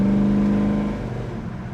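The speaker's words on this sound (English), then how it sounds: "Good acceleration out of the car. We'll show you that here in just a little bit when we come up to the corner." A 1968 Chevrolet El Camino accelerating on the road, its engine note loud and close with a steady rising drone, easing slightly toward the end, no talking.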